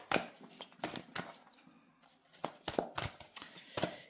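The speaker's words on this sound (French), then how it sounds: "Alors, on va tirer une carte pour votre projet." Tarot cards are shuffled and drawn by hand in a quiet room, producing crisp bursts of riffling and slapping cards in irregular clusters, close and fairly soft, with no talk.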